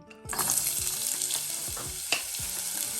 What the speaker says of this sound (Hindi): इसको हल्का सा सौते कर लेंगे